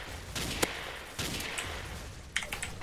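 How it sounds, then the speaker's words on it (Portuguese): Gunfire rings out in the Roblox shooter Arms of Solitaire, several sharp separate shots cracking at irregular intervals, fairly close, over faint background game noise. "Nossa, tão me atirando!"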